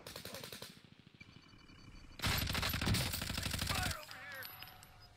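Rapid automatic gunfire in the video game Warzone, with steady bursts of shots building into a loud sustained volley before cutting off, followed by softer game sounds.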